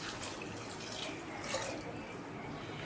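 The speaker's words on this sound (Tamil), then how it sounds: "இப்போ தேவையான ஒரு தண்ணி சேர்த்து நம்ம வேக வச்சுக்கலாம்" Water streams steadily into a cooking pot of horse gram dal with a soft, continuous splashing rush, close by and moderately quiet, with no voices.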